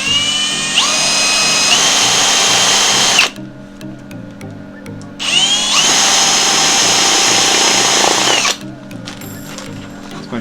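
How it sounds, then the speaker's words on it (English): A loud power drill runs in two long bursts, whining at high speed, with a short quiet pause between them and some light mechanical clicks after. "I'll just drill through."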